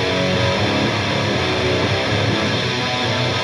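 Distorted electric guitars run through a Neural DSP amp plugin with M-Clarity processing on the mix, making a dense, continuous wall of heavy tone that stays loud and steady throughout.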